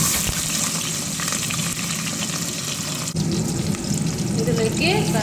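Curry leaves, mustard seeds, green and dried red chillies crackle and sizzle in hot oil for sambar tempering, a steady dense frying hiss with scattered pops throughout.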